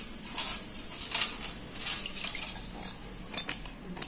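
A copper or brass vessel is rubbed and scrubbed by hand, giving wet swishing strokes in a steady rhythm, with a few light metallic clinks, close up and with no talking.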